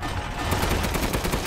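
Rapid, continuous automatic gunfire with infinite ammo during a boss fight in Resident Evil Village, dense repeated shots filling the whole moment at a steady loud level.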